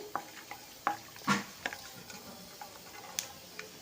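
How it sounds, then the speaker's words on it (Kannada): Light crackling and scattered sharp pops of peanuts and mustard seeds frying in hot oil, with occasional stirring clinks, fairly quiet and close. "ಕಡಲೆಕಾಯಿ ಸ್ವಲ್ಪ ಫ್ರೈ ಆಗಬೇಕು ಎಣ್ಣೆಲೆ"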